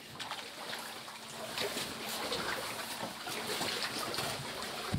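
Water flowing somewhere inside a wide, hall-like chamber deep in a cave, a soft continuous trickle and rush with faint splashy accents, steady and low in level.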